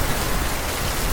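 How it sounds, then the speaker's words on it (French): A sudden heavy rain shower pours down steadily, a dense, loud hiss of falling rain with no voices. "La pluie est arrivée en 2 secondes."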